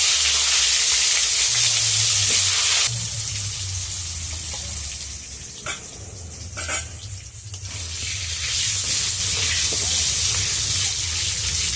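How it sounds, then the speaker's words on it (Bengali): Potatoes fry in oil in a village-style kitchen, with a loud steady sizzle at first that turns softer and is broken by a few stirring clatters. "আগে আলুটা ভেজে নিচ্ছি"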